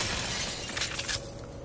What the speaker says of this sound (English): he was out of range of that giant explosion of glass